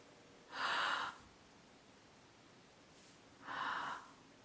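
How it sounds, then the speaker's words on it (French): Two slow, deliberate breaths demonstrated for abdominal breathing in a singing lesson, each a soft airy rush lasting about half a second, spaced a few seconds apart, close and clear in a quiet room with no talk. "Ce type de respiration, on appelle ça la respiration abdominale."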